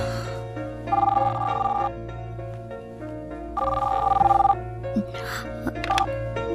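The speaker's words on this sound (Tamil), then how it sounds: "இந்த நேரத்துல உனக்கு யாரு ஃபோன் பண்றாங்க" A telephone rings in two long bursts separated by a pause, loud and close over a steady low background hum, with brief clicks near the end.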